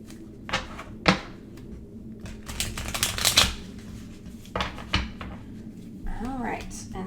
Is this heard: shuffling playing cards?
yes